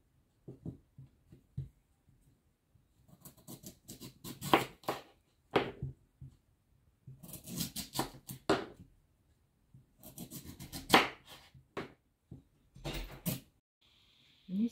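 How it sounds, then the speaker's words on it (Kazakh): A knife chops carrots on a cutting board for homemade multivitamin juice, coming in irregular bursts of quick, close taps and scrapes separated by short pauses. "Енді сәбізді де осылайынша турап аламыз."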